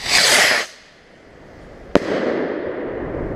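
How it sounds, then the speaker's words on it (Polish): A medium-size consumer firework rocket, grey-coloured, whooshes up loudly at first, fades, then a sharp crack is followed by lingering crackle and rumble in the distance. "Rakieta średnia."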